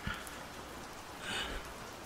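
Rain falling softly in the background during a cold, quiet scene, a faint continuous hiss with a slight swell near the middle.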